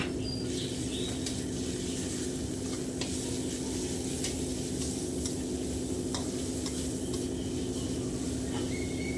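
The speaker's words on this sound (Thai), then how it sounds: "เราก็จะนำหมูที่เราสับไว้ลงมาใส่เลยจ้า ผัดหมูให้สุกนะคะ" Minced pork stir-fried with chili and garlic in a hot pan, a continuous loud sizzle with occasional scraping stirs, steady from start to finish with no talking.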